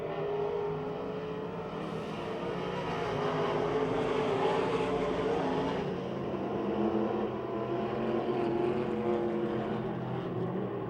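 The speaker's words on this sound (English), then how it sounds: "Tom Martinek, Clayton Kennedy, and the Midway Missile Daryl Charlier are racing for the lead here in turns 3 and 4 on lap number 1" Race cars roaring around the track at Pennsylvania Motor Speedway near Pittsburgh, a continuous distant engine drone that swells and fades as the pack circles through the turns.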